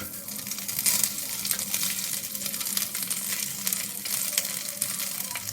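Cooled rice tipped into a frying pan for Bengali-style fried rice and stirred, a soft steady sizzle with scraping and clinking from the spatula, quiet and without talking.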